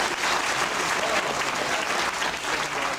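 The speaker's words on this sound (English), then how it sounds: "how about another giant round of applause" A school class and audience give a loud round of applause, a dense, sustained clapping crowd heard up close for its whole length.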